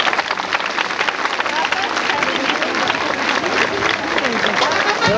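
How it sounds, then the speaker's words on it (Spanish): Loud, dense applause and cheering from a crowd at a traditional Danza de la Pluma dance performance in Tlacochahuaya, continuous throughout with a murmur of voices in the mix. "aplauso."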